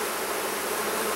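Dense, continuous buzz of honeybees swarming around an open hive during an inspection, loud and close with no pauses.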